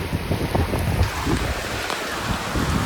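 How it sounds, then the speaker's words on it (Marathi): Heavy rain mixed with hail drums hard on a surface with dense, irregular pattering and occasional sharper hailstone impacts, loud and steady throughout. "अचानक भयानक पाऊस आलेला आहे आणि एकदम जोरात आलेला आहे"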